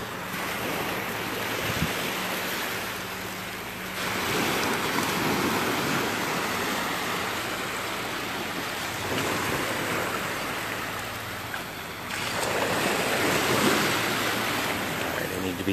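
Ocean waves roll in and break on a beach during a morning walk, a steady wash of surf with louder surges swelling around the start, middle and end, plus some wind rumble on the microphone.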